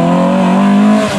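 A white Ford Escort RS 2000 Mark II rally car at a rally sprint in Straubing drives past with a loud, close, steady engine note and no voices over it.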